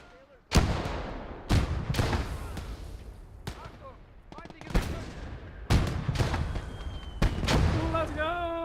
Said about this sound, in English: Throw a grenade in it.